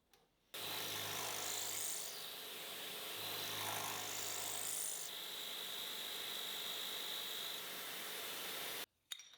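A milling machine cuts a bevel into a metal block, its steady whine and high cutting hiss running continuously at close range, the pitch shifting slightly between light passes before stopping abruptly.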